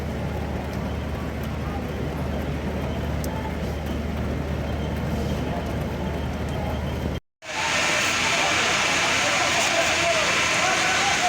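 A fire burning at a plastic factory gives a steady, loud broadband roar that continues throughout, briefly cut by a moment of silence, with voices talking nearby.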